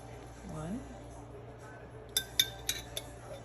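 A metal spoon clinks lightly against a container as it scoops duck sauce onto pieces of Hawaiian chicken: four quick, close taps in a row over faint background noise.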